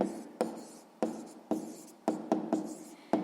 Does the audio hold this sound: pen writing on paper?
yes